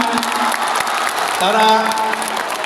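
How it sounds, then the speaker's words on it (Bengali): An audience at a school and college teachers' debate applauds the judges, a full burst of clapping with a voice briefly audible through it. "আমাদের বিচারক মণ্ডলীর জন্য আপনারা একটু হাততালি দিয়ে তাদেরকে অভিনন্দন জানান।"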